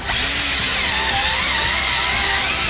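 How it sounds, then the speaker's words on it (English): A power auger bores a hole in dry soil to set a termite monitoring station, a steady, loud mechanical whine and grinding drone running close and unbroken throughout. "some soil will actually come straight out with the auger and it'll leave the hole empty"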